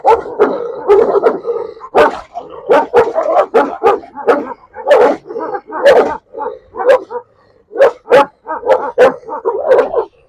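Several Belgian Malinois dogs bark in rapid, overlapping bursts, loud and close, with a few yips mixed in and a short pause near the end.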